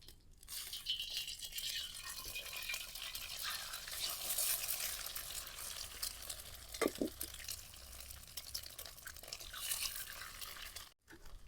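Two eggs crack into hot oil for street-style double egg chicken noodles, giving a steady, faint sizzle and crackle with a couple of brief clicks near the middle, quiet and close with no talk.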